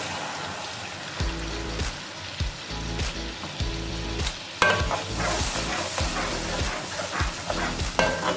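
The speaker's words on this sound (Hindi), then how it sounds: "अब मैं इसके अंदर मैंने जो अनियन प्योरे करके रखी हुई है वो मैं ऐड कर रही हूँ।" Onion puree fries loudly in a pan for karelay masala while a spoon stirs it in rhythmic scraping strokes, with a sharp clatter partway through, and no voices are heard.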